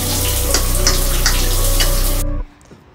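Shower water runs loudly in a steady, broadband rush during a guy's date preparation, then cuts off abruptly near the end, leaving near silence.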